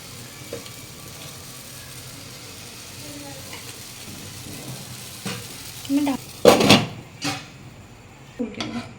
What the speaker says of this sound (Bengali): এগুলো সব এভাবে ভেজে নেবো আমি প্রথমেই